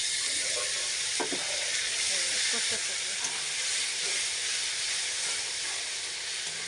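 Spice paste and chopped tomato hit hot oil with browned onions, giving a steady, close sizzle and hiss with a few soft stirring scrapes throughout.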